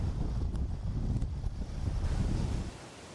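Strong gusty wind buffeting the microphone near a forest wildfire in the United States, a continuous loud roaring rush that eases off near the end, with no voices.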